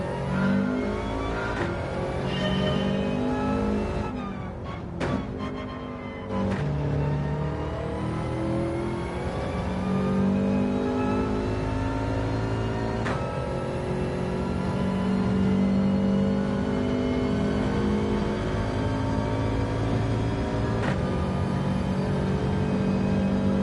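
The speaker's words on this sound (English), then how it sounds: "I can hear the engine quite loudly" A race car engine drives around a track in a video game, roaring loudly and steadily for over twenty seconds with repeated gear-shift revs and rising, falling engine pitch.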